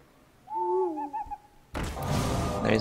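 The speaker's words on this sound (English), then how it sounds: "There is an owl." An owl hoots inside the Hearthstone card game: a short series of soft tonal hoots that waver in pitch, followed by a sudden dense burst of clattering game effects.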